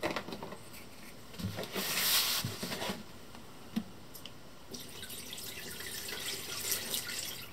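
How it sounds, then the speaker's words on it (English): Liquid is poured into the tank of an Anycubic Wash & Cure station, a soft, steady splashing and trickling with a few drips and bumps, close and moderately quiet throughout. "I think it's going to be easier to fill up with liquid."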